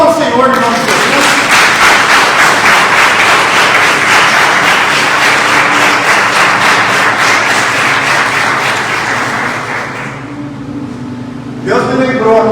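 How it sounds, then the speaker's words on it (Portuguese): A church congregation claps loudly and steadily for about ten seconds before it fades. A voice returns briefly at the end. "Então aplauda o Senhor em nome de Jesus."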